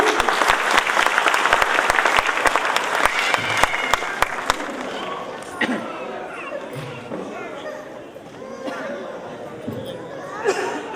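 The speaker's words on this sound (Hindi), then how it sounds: "कृपया जोरदार तालियां बजाएं" An audience at an Ambedkar Jayanti celebration claps for a group song performance, dense crisp applause at first that thins out, with crowd chatter and voices continuing beneath and after.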